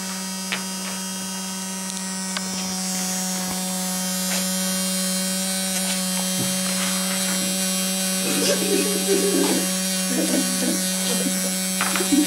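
A Tesla coil with needle emitters gives off a steady, loud electrical buzz with a strong hum that holds for the whole stretch, while faint voices sound in the background toward the end.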